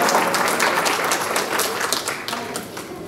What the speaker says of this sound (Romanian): Haideți să o aplaudăm!